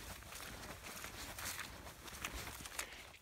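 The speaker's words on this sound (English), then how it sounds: "As you can probably hear, the trail's pretty muddy today." Footsteps squelch and crunch along a muddy riverside hiking trail in a steady walking rhythm, close to the microphone with faint outdoor ambience behind.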